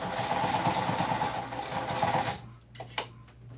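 A sewing machine runs in a steady, fast mechanical chatter while stitching the last edge of a minky blanket, then stops partway through, leaving a low hum and a few soft handling clicks.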